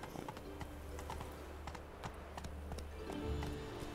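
Roach, Geralt's horse in Witcher 3, trots along with steady rhythmic clip-clop hoofbeats, close and clear over a low ambient rumble.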